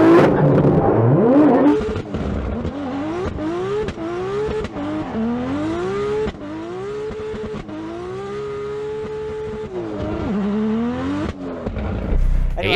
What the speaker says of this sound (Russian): Ну а теперь посмотрим, как Ахмад мастерски дрифтует.